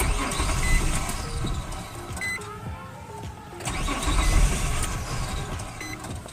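A Nissan car engine cranking without catching, with repeated whirring starter churns rising and falling at close range, pausing briefly and then cranking again.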